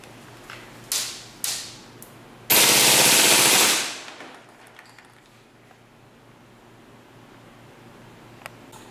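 A WE SCAR open-bolt airsoft gas rifle: a few single sharp cracks, then a loud rapid full-auto burst lasting about a second and a half that fades out, followed by faint mechanical clicks, with no talk.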